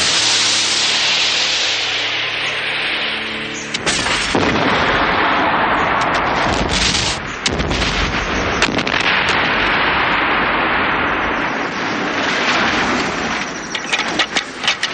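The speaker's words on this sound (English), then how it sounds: "The rocket was all right. The blast didn't do a great deal." A model rocket blast fired as a film effect: a low droning hum gives way to a loud, sustained roaring rush of noise with crackling bursts that carries on for about ten seconds.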